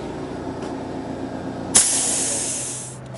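A spray can releases a translucent automotive paint coat in one sudden burst after a faint hiss, then a steady close spray that tapers off and stops near the end.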